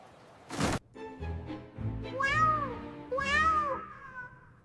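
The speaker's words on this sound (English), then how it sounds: "Was that a tiny kitten meow coming from the wall?" A tiny kitten meows from inside a wooden wall, two clear, high rising-and-falling cries after a sharp knock, close and distinct against a quiet background.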